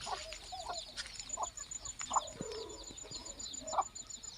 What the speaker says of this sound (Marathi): तर हे बघू शकताय हे आपले कोंबड्या आहेत